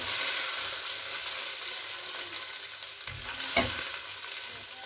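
Chicken mince qeema frying in a pan, a steady close sizzle with scraping stirs and one louder stir burst near the end, no talking.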